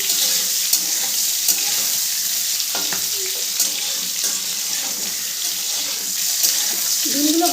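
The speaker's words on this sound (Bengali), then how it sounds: "এরপরে ওই তেলেই আমি মাখিয়ে রাখা ডিমগুলো দিয়ে দেব" Marinated eggs fry in hot oil in a pan, giving a continuous bright sizzle with small pops and occasional utensil scrapes, steady and close.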